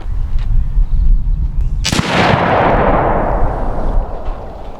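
Savage Axis rifle in 6.5 Creedmoor firing a single loud shot of 165-grain Hornady Super Performance ammunition, a sharp crack followed by a long rolling echo across the outdoor range, with no voices.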